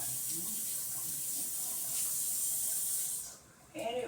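Tap water runs steadily over a washcloth, rinsing away rose-scented handmade soap. The close, even hiss cuts off near the end, followed by a brief splash.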